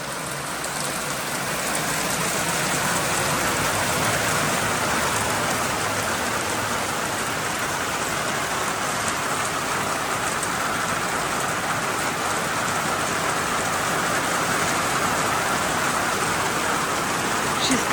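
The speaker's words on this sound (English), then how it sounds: "Absolutely torrential rain." Heavy rain pours down in a dense, unbroken hiss, loud and steady throughout with no pauses.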